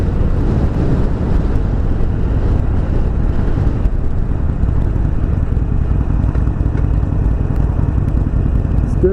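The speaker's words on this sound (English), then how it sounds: "Noisy little motor." A 1200cc Harley-Davidson Sportster engine drones while riding, a loud continuous rumbling roar with rough low-end vibration and wind noise, steady throughout with no voices.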